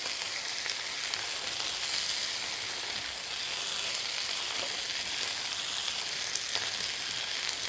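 Chicken frying in a pan gives a steady, even sizzle with faint crackles and pops scattered through it, close and moderately quiet, with no talk over it.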